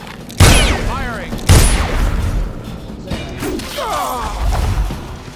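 Gunfire in the video game Dishonored: two sharp, heavy shot blasts about a second apart, followed by rumbling impacts and whooshing swishes, loud and close, with voices talking over the action.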